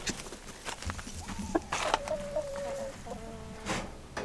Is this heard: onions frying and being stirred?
no